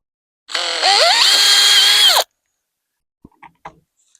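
Power drill fitted with a pilot bit bores pilot holes in wood for a gate latch, one close, loud whine of about two seconds that climbs in pitch as the motor spins up, followed by a few faint clicks and knocks.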